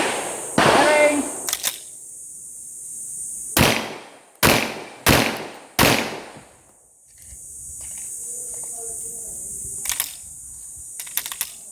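A .40 caliber pistol fires rapid shots at steel plates 15 meters away, sharp loud cracks in a quick string followed by a pause and faint distant pings, with a few voices murmuring afterward.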